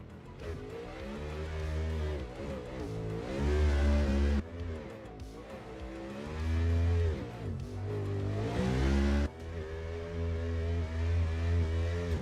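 A Mustang RTR drift car in a drift qualification run accelerates hard down the track, its engine revving loud and near with rising and falling pitch over several sustained pulls, briefly easing off between them.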